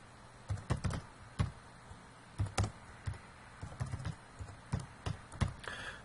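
Soft, fairly quiet keystrokes on a computer keyboard come in short irregular clusters with pauses between, close and alone without talk.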